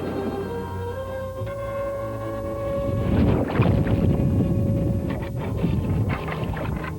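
Boat engine droning steadily with water churning and splashing as it drives through a town flooded by the Red River, growing louder midway, with wind buffeting the microphone.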